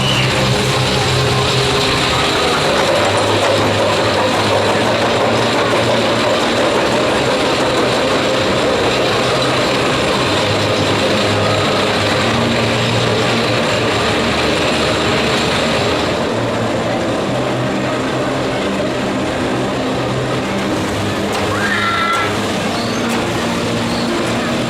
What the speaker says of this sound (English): A spectacular nighttime ride there on the last train of the day on the big one